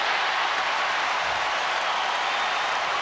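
Arena crowd at a 1993 NBA Finals game between the Chicago Bulls and Phoenix Suns roaring after Mark West sinks a free throw, a steady, dense wash of cheering and applause filling the hall without a break.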